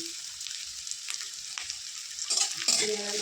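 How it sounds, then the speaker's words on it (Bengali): Ginger and garlic hit fried onions in a hot pan, setting off a steady close sizzle with stirring that swells louder near the end; a voice speaks briefly. "পেঁয়াজটা ভাজা হয়ে গেছে, এবার আদা রসুনটা দেবো।"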